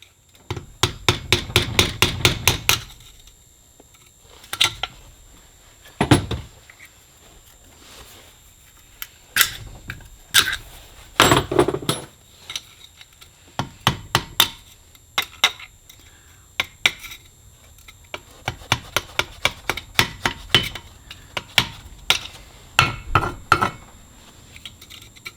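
Sharp metallic hammer blows ring out in quick bursts and scattered single strikes, punching out exhaust studs from a cylinder head, with quiet pauses between rounds.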